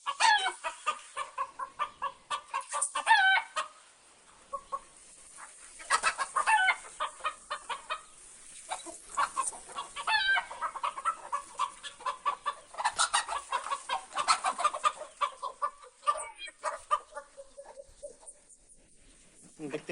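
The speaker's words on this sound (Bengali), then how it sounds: "ইনশাল্লাহ এবার এলাম মুরগির দিকে। মুরগিগুলা কেমন তাও দেখে নিলেন।" Chickens clucking on a farm in Saudi Arabia, their calls arriving in close, busy bursts with short quieter gaps between them.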